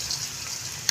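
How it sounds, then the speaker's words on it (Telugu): Bitter gourd pieces with ginger garlic paste frying in a pan, a dense, even hiss of sizzling oil up close with a brief clink at the end. "ఇది బాగా వేగాలి."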